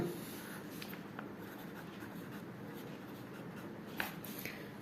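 A pen moves steadily across paper in a quiet room, faint continuous scratching strokes with a few sharper taps, alone with no talk.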